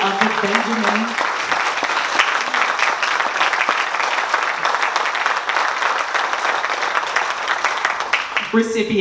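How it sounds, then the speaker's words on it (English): An audience claps at the 2024 Friendship Place Honors awards ceremony, a loud, sustained wave of applause from a crowd, with a brief voice heard at the start and end. "let's give a round of applause for John Gradowski"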